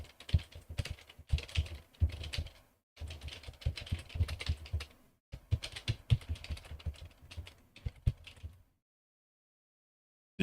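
Rapid typing on a computer keyboard, close and fairly quiet, with dense bursts of key clicks broken by short pauses, then silence for the last couple of seconds.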